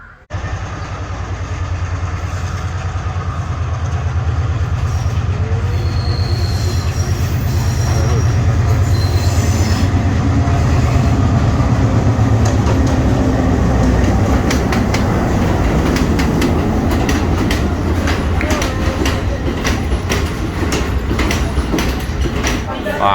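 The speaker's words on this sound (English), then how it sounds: "I'm taking the train to Haputale, which is a 23-kilometer ride and back" A crowded train heading to Haputale in Sri Lanka rumbles steadily along the rails, with clattering wheels and a rising clickety-clack over a continuous loud drone, and voices can be heard in the carriage.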